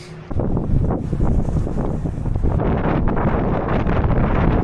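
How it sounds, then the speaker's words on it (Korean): Strong, cold wind gusts roar and buffet the microphone continuously along the coast of Jeju Island during a run, a dense, loud rushing that never lets up. "와, 진짜 바람 장난 없네요."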